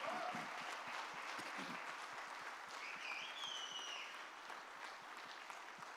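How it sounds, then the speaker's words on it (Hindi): Sustained crowd applause from a seated audience rising into a standing ovation for a guest author at a finance professionals' event, steady and dense for the whole stretch, with faint voices mixed in. "Can we all give a standing ovation to sir?"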